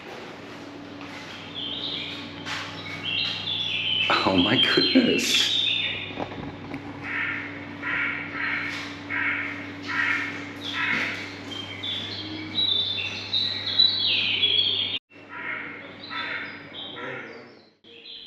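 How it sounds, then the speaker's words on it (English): Recorded bird chirps and tweets play in a public toilet parenting room, bright and repeated through the whole stretch over a low hum, with a few brief exclamations from a person. "Apparently when I go in, bird sounds start"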